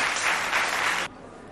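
Applause at a school event in Sarh for the lycée headmaster, a dense steady burst of clapping that cuts off abruptly after about a second, leaving faint room noise.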